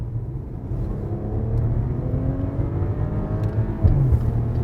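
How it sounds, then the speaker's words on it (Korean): A Maserati Quattroporte Zegna Edition's exhaust in sport mode rumbles low and steady, swelling as it accelerates, with a sharper burst of revving near the end; no voices. "이 스포츠 모드를 했을 때의 배기음,"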